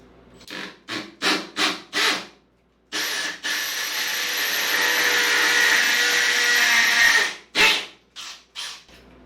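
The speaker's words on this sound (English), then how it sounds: "So let me just start drilling." A power drill whines steadily for several seconds, framed by short bursts of grinding or scraping before and after, close and fairly loud.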